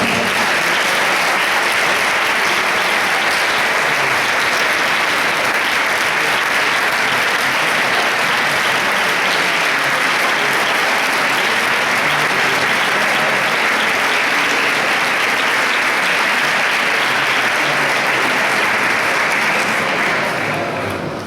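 A large crowd at a musicians' festival applauds a new clarinet player receiving her instrument from her sister, loud continuous applause sustained for about twenty seconds before fading at the close.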